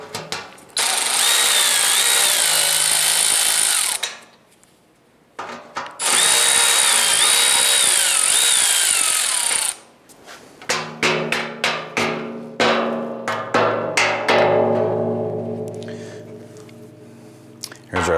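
Power drill driving screws out of the top of a 2011-2018 Dodge Ram 1500 front bumper, with two long, loud whirring runs, then a series of short clicks and clatter, and some talk.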